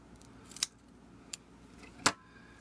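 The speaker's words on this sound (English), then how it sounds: "Cut off a nice piece of foam tape" Scissors snip through a piece of foam tape in three crisp, separate cuts, the last one loudest, each standing alone against a quiet background.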